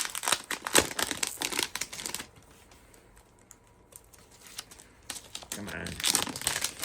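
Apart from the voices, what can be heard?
plastic wrapping being removed from a network switch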